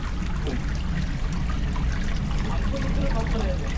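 Flowing stream water pours and trickles outdoors at a rural waterfall spot, a steady close rushing and splashing under occasional speech.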